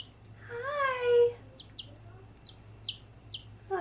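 Baby chicken chirping indoors: a longer warbling call followed by a series of short, high peeps at a quick, uneven pace, fairly close over a low steady hum.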